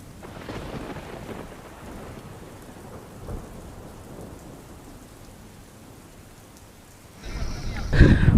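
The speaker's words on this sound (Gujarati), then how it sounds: "ઠેર ઠેર ધોધમાર વરસાદ વરસી રહ્યો છે" Heavy monsoon rain pours steadily in Hansot, Bharuch district, with a soft rumble of thunder midway and a louder, close thunder crack near the end.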